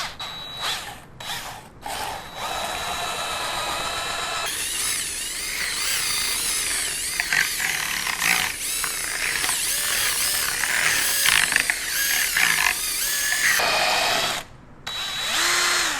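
A power drill spinning a mixing paddle whirs continuously during drywall patch repair, its pitch rising and falling as it churns, with a few brief pauses and restarts.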